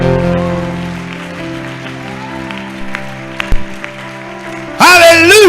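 A youth camp worship crowd breaks into loud, sudden cheering and applause after a stretch of sustained organ or keyboard chords, the clapping filling the final seconds.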